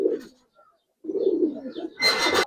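Giribaz pigeons coo in short, low throaty phrases close by, with brief pauses between bursts and a sharper noisy rustle at the end.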